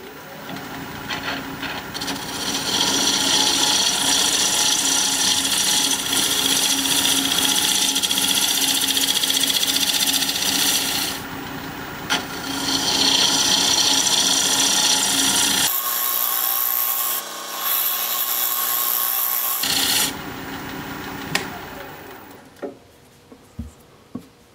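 Wood lathe turning a piece of pepper wood while the bottom is flattened, giving a steady, loud, rough scraping hiss of the tool on spinning wood that briefly stops and resumes, ending in a few light taps once the cutting halts.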